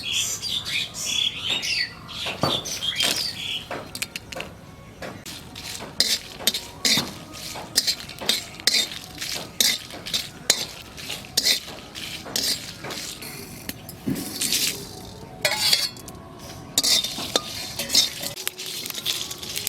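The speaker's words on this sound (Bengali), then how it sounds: "প্রথমেই শুকনো খোলায় কটা মশলা বাজিয়ে নেব" Dry spices, including coriander, cumin and dried chillies, rattle and scrape in a dry pan, with rapid irregular clicks and stirring scratches, close by, interrupted by occasional brief pauses.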